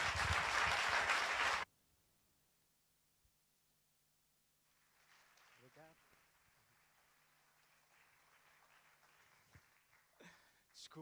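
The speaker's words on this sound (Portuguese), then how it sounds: "Para ele, uma enorme salva de palmas." A short burst of applause at a Portuguese arts and letters panel event, given for Ruben. It is loud and dense for under two seconds, then cuts to near silence before quiet talking begins.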